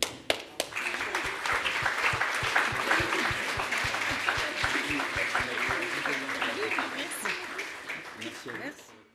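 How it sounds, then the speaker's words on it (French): Conference audience at the RAICT 2025 plenary session applauding: dense, steady clapping that fills the whole stretch and fades out at the end, with some voices mixed in. "je vous invite à applaudir"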